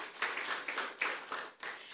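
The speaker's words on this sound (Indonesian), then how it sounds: "Berikan tepuk tangan untuk Tuhan Yesus" Applause during a church service, a congregation clapping for Jesus as a dense wash of many hands that swells and dips in short bursts, with no talk over it.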